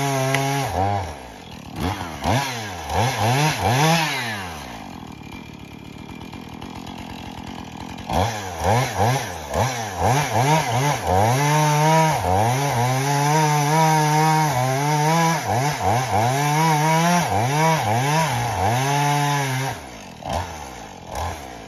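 A chainsaw roars up close, its engine revving up and down repeatedly as it bites through wood, loud and continuous.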